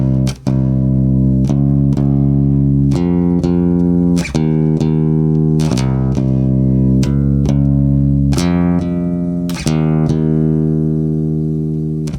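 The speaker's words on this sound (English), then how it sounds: "now I'll use my fingers on some of the higher strings that resonates a little bit more" Fingerpicked bass guitar through an MXR M80 bass DI pedal, with notes on the higher strings plucked one after another in a steady, sustained line that resonates clearly, loud and close with no talking.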